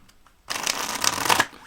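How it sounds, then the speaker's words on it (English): A deck of tarot cards is riffle-shuffled close up, with a quiet pause and then a loud, continuous flutter of cards lasting about a second before it stops abruptly. "shuffled these quite a bit, but we'll do it again"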